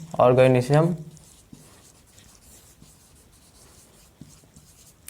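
Pen or marker writing strokes on a surface, first under a man's speech, then alone as soft, irregular scratches and light taps during a class 10 biology lesson.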